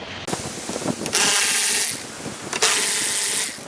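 Power tool removing bolts on a 2023 BMW S1000RR motorcycle during an air filter install: two loud, close whirring bursts of about a second each, with mechanical clicks and handling noise between them.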